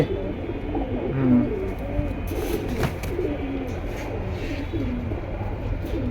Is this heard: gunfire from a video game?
no